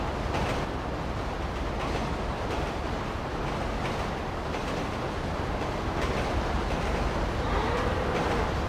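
A train rumbles along the tracks in Grand Theft Auto 5, a loud, continuous rolling roar with rattling and clatter that carries on without any talking.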